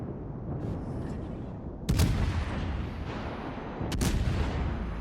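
Heavy naval guns firing in the video game World of Warships, two deep booming salvos a couple of seconds apart, loud and close over a constant low rumble of engine and sea ambience.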